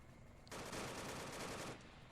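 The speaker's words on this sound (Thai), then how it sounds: "ตำรวจยิงแล้ว" A loud burst of rapid automatic gunfire from police in the video game Arma 3, about a second long, standing alone against a quiet background.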